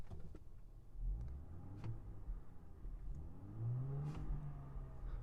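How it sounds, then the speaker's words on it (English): 2021 Land Rover Range Rover Westminster engine being revved while parked, a muffled rising and falling rev heard from inside the cabin with a faint whir, steady and moderately loud, no talking. "And that means it's just time to rev it up."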